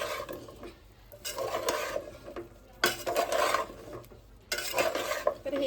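Jackfruit curry with spice masala being stirred in a pan with the heat off, scraping strokes that come in three bursts separated by quieter pauses, close and alone.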